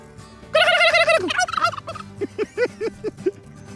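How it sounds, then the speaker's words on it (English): A turkey gobbles loudly nearby, a rapid warbling burst followed by a series of short throaty clucks, alone without talk. "At any time, anywhere within earshot, a quick gobble, and Stanley will call back."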